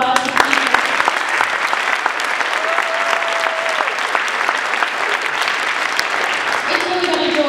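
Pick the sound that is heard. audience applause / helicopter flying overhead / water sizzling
audience applause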